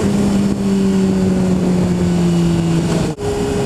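A motorcycle ridden steadily with its engine holding a loud, close, even drone and wind rush, with a brief dip near the end, and no talk over it.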